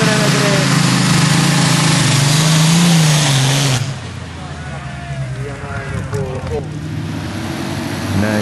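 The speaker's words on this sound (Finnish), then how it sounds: "Ja näin siellä sitten Vesa lähtee hakemaan kierroksia ja vauhdikkaasti lähdetään liikkeelle." A pulling tractor at a 2005 tractor pulling contest in Kalajoki, Finland revs loud and close, then drops to a lower, rougher engine note as it pulls away, with an announcer talking over it throughout.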